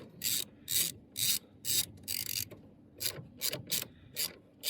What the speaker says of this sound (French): On dévisse gentiment.